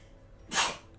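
A single sudden sneeze bursts out near the microphone during a game session, brief and loud against quiet room noise.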